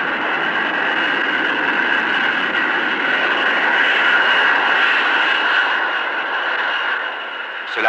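Steady, loud aircraft engine drone from an airplane landing, holding near-constant through most of the stretch before easing slightly near the end with a brief burst at the close.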